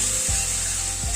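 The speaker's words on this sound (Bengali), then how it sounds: "সব মশলাগুলো দিয়ে একটু কষিয়ে নেব" Ground spices sizzle softly in oil in a pan while potol (pointed gourd) is being cooked, a steady faint frying hiss with a couple of low scraping stirs.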